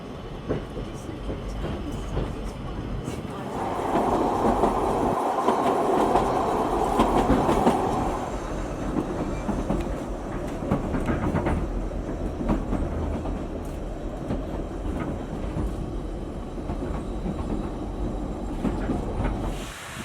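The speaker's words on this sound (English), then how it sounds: "At one point the train goes round a loop to gain height." Ffestiniog Railway narrow-gauge train running on rails in North Wales, a steady rumbling roll with clattering wheel noise and hiss, close and continuous throughout.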